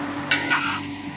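A utensil scrapes and clinks through Andhra chilli chicken simmering in a pan, a sharp initial scrape followed by a softer stirring stroke over a faint steady bubbling.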